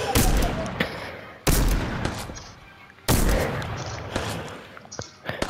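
Gunshots in a video game ring out as three loud, sharp blasts spaced about a second and a half apart, each with a long decaying tail, mixed with fainter clatter and voices in the background.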